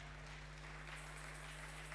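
A church congregation applauding, a dense, continuous wash of clapping that fills the room evenly, with a low steady hum underneath and no voices standing out.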